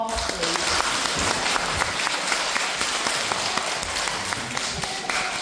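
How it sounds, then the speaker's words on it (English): A class of schoolchildren applauds a pupil named Ronnie at a school awards assembly, a steady, fairly loud round of clapping with scattered sharper claps throughout. "can we give Ronnie a round of applause, please?"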